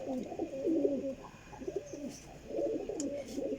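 Pigeons coo in soft, repeated rolling phrases close by, a gentle murmuring rhythm among a flock of good-sized birds with faint background noise.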